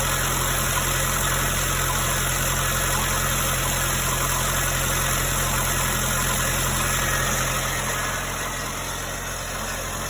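A small engine driving a pump idles after starting, holding a steady, loud, close drone with a constant vibrating hum that eases slightly near the end, with no one talking.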